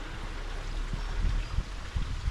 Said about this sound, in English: Water running off the side of the hills there,